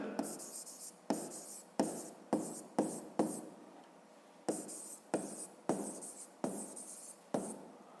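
Pen writing on paper during a fifth-grade math exercise, a steady run of close scratchy strokes in short repeated bursts with brief pauses between them.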